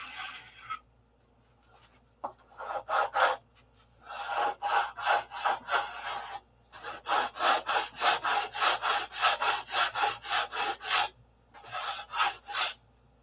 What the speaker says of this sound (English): we're only going to sand until that grinding goes away